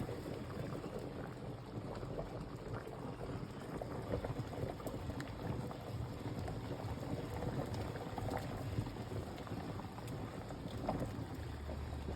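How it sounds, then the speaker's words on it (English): A pot of water at a rolling boil with pierogi cooking in it gives a faint, steady bubbling and churning that carries on evenly without pause, with no voices. "Good boil."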